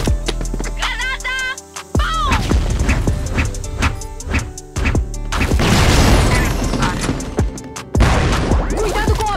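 A grenade bursts in a Counter-Strike-style shooter match, a loud boom cutting through dense game noise and clattering effects, with a player's voice speaking over the action.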